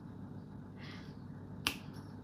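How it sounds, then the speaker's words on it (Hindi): A single crisp finger snap cracks out sharply about two-thirds of the way through, close and alone over a faint low room hum. "अब चुटकी वाला काम करते हैं ना"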